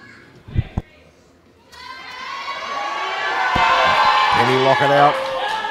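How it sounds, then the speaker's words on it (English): A powerlifting crowd at the 2017 IPF Open World Championships roars and cheers in sustained support during a world-record lift attempt, swelling loud and near after a couple of brief shouts. "Plenty of support in the crowd here."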